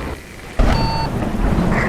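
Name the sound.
rain and thunder in American Truck Simulator video game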